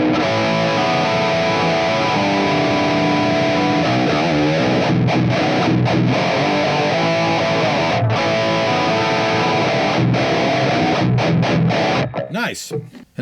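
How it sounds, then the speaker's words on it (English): Heavily distorted electric guitar through an amp plugin, playing continuously with a warm, full tone, chords ringing steadily before cutting off abruptly near the end. "as you can hear, the distortion sounds beautiful"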